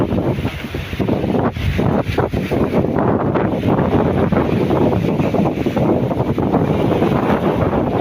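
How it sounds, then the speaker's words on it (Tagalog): Strong wind of about 20 to 25 knots blows at sea aboard a fishing boat, roaring in gusts against the microphone over the wash of waves, with no voices. "ang lakas ng hangin, nasa 20 siguro, 20 or 25 knot"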